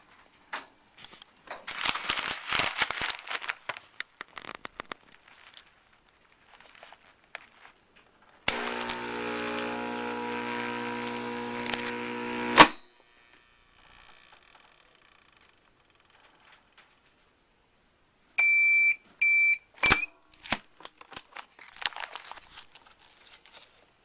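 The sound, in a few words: vacuum sealer machine sealing a bag of beans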